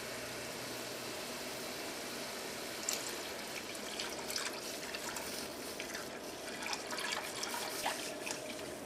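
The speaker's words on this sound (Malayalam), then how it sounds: "ഇനി ഇതിലേക്ക് നമുക്ക് പാല് ചേർക്കാം" Milk is poured into boiling water in a pan for Kerala paal payasam, making a continuous liquid pouring and bubbling wash with small drip-like splashes, steady and fairly close throughout.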